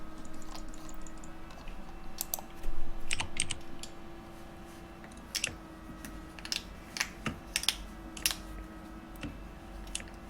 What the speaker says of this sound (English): I heard you press your keyboard and click your mouse